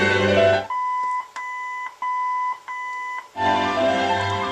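Original AM radio in a 1951 Ford Woody Wagon sounds a series of short electronic beeps, about four clipped tones in steady rhythm, close and clear between bursts of louder broadband sound before and after.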